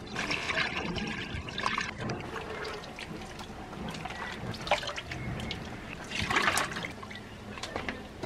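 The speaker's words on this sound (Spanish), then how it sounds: "Lo que viene es que voy a lavar la carne." Water running and trickling while raw pork is rinsed in a home kitchen, a steady splashing flow with irregular louder gushes, heard alone without speech.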